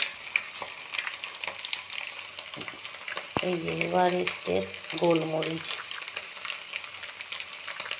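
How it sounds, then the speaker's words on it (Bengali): Egg frying in a pan and being stirred, with a busy sizzle and scraping throughout while a person speaks briefly in the middle. "দেখুন, ডিমটা ভাজা হয়ে গেছে"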